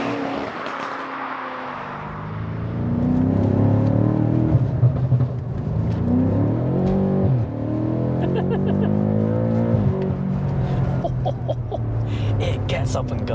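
An 800 bhp BMW F90 M5 engine revs up hard, the pitch climbing through several gear changes in a loud sustained roar heard from inside, with a voice briefly at the start.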